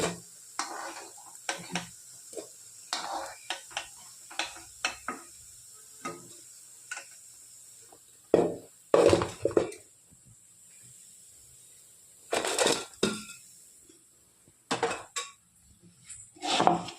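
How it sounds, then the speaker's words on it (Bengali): Lentil fritters (bora) fry in oil in a pan while a spatula stirs them, giving intermittent metallic clinks and scrapes over a faint sizzle, close and moderately loud. "তারপর লাল লাল করে ভেজে তুলে দেখাচ্ছি।"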